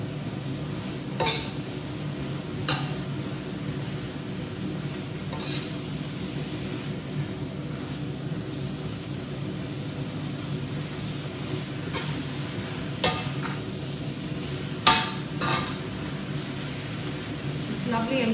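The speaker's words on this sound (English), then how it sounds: "I'll give it a good old stir with preferably a spoon" A spoon stirs a salad of pak choy and spring onions in a bowl, giving sparse, sharp clinks and scrapes every few seconds over a steady background hiss.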